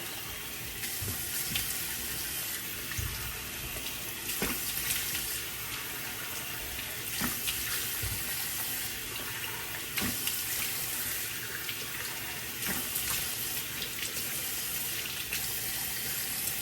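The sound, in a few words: water splashing while rinsing face at sink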